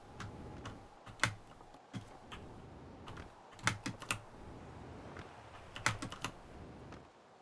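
Keys on a computer keyboard clatter up close in uneven bursts of rapid clicks, with short pauses and a few sharper heavy strokes, and nobody speaks.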